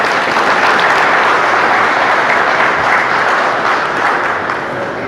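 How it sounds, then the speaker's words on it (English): Audience applause at a keynote speech at a UAMCC convention in Charlotte, North Carolina: dense, sustained clapping from a large crowd filling the room for about five seconds, easing off slightly at the end. "So everybody give them a round of applause."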